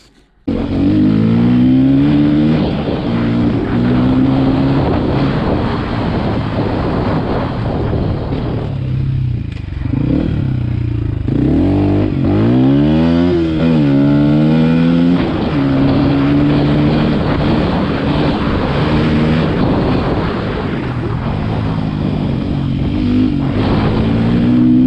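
A 2021 Beta RR125 LC 4T motorcycle being ridden, its single-cylinder engine loud and close, rising and falling in pitch through gear changes and throttle blips, with a brief dip around the middle, no talking.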